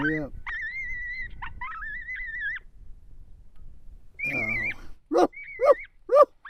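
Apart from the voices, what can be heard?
coyote pup distress call played from a predator caller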